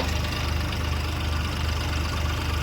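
A steady, low engine rumble idles continuously with an even, throbbing rhythm, fairly close and with no voices.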